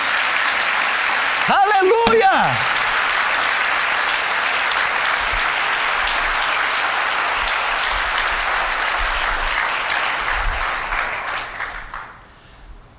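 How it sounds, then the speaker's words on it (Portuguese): A church congregation claps in a steady, full round of applause that fades out near the end. A voice shouts an exclamation early on, over the clapping. "Dá um aplauso agora."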